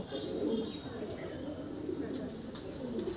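Pigeons coo steadily inside a tall, large netted loft, a soft continuous murmur of overlapping low calls with faint chirps, moderately distant, alongside a background human voice.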